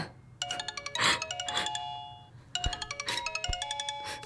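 A phone rings with an incoming call, its tonal chime repeating in two bursts a few seconds apart, each a run of quick bright electronic notes close by, with no talking.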